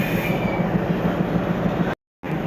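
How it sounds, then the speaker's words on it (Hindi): A train hauled by an Izzatnagar-based diesel locomotive on the Lucknow–Chhapra Express, with close, steady rolling rumble and rhythmic wheel clatter, cut off briefly near the end. "इज्जत नगर का डीजल लोकोमोटिव है।"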